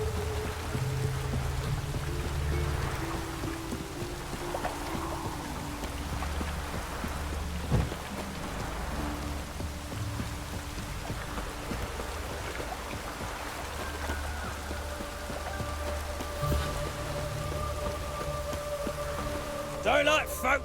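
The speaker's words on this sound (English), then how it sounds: "The rain, and here it is." Steady rain pours down in The Witcher 3 open world, a dense continuous hiss with low rumbling underneath and occasional soft thuds, holding at an even level throughout.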